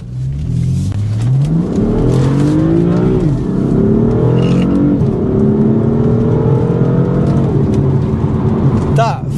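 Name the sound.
performance diesel car accelerating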